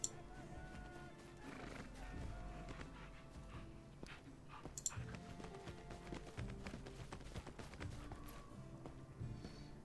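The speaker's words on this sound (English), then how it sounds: "these horses are in the way" Horses in a Pathfinder Kingmaker video game scene, whinnying and clopping faintly amid a busy mix of background sound and clicks.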